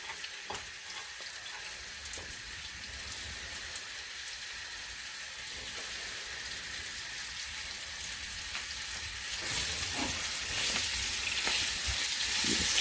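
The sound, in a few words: steak browning and sizzling in a hot pan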